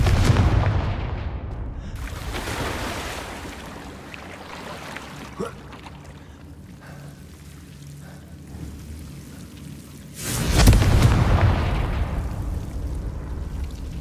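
Confringo fire blast spell explosions in Hogwarts Legacy, two loud booming blasts with rumbling tails, one at the start and another near the end, alone.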